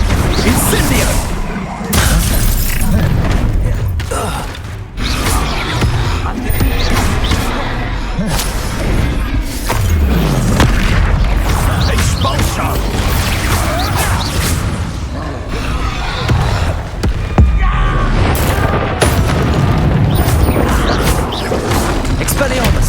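Incendio fire spells blast during a Hogwarts Legacy video game duel amid a dense, loud, nonstop wash of crashes, booms and impacts, with shouting voices mixed into the combat.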